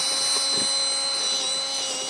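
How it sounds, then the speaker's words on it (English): A power drill bores holes for a trolling motor's bottom mounting plate on a powder-coated Twin Vee catamaran, the steady high whine running continuously and fairly close. "Anthony is drilling the holes for our bottom mounting plate"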